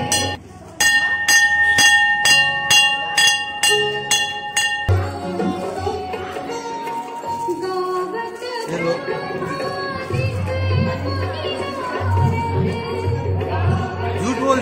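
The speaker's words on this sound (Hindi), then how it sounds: "करो घंटी वंटी बजाओ यार, बजाओ घंटी।" A temple bell at a crowded Mahashivratri festival rings in a quick, steady run of bright metallic strikes for about five seconds, then fades into dense music and crowd noise.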